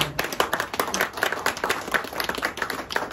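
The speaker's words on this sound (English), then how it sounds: "So let us give clap of praise to our God." A church congregation claps together in praise to God, a dense, steady burst of many hands filling the room for a few seconds with no talking over it.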